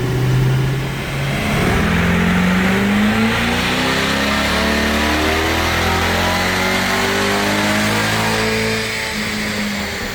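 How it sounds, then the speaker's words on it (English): A 700 hp Stage-1 Magnuson supercharged C8 Corvette with Dodson clutches revs hard while strapped to a dyno, its engine note climbing steadily through a long loud pull with rising harmonics and a steady mechanical roar, no voices. "straps the car back down to the dyno to dial everything in via HP Tuners."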